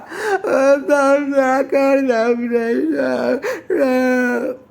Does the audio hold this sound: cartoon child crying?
yes